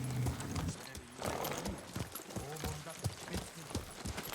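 Horse hooves clip-clop in Ghost of Tsushima video game, a quick uneven run of close hoof strikes with a brief snort, while someone talks over it.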